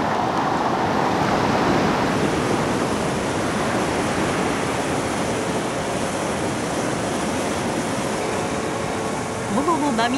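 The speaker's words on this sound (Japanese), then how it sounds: "これはすごい、荒れ狂うボノ。" Bono tidal bore on the Kampar River in Sumatra, Indonesia, a brown surging wave over two metres high, producing a continuous loud roaring rush of churning water with wind noise throughout.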